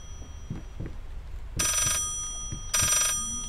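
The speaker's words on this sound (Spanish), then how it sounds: "Ahora suena al derecho el teléfono." Telephone ringing in the horror video game Layers of Fear, two loud electronic bell bursts separated by a pause, with soft footsteps and thuds underneath.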